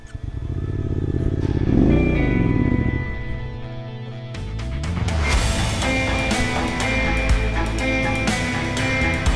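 A motorcycle engine idles and revs nearby, goes briefly quiet, then restarts with a sudden loud burst and keeps running with rising throttle, rough and rattling, without voices.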